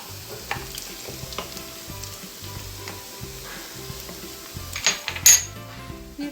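Onions fry with tomato paste in a pan for spinach with minced meat, a steady sizzle under rhythmic stirring scrapes, with a few louder metallic clinks of the spoon near the end.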